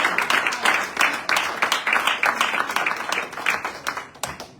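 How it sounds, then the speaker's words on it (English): An audience at a human and civil rights town hall meeting applauds, a steady wash of clapping from many hands that holds for several seconds with no voices standing out. "Please give Dr. Chapman another round of applause"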